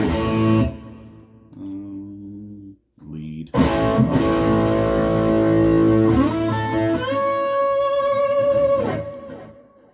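Distorted electric guitar through a Fractal Axe-FX III amp modeler on a cranked, bright, jumped crunch setting with reverb off, playing crunchy chords and sustained notes, loud and upfront, with a short pause before a fuller, ringing passage.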